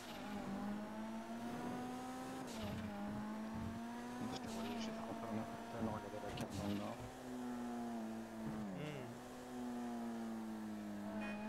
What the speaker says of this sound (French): Tiens, j'ai ressorti ma voiture.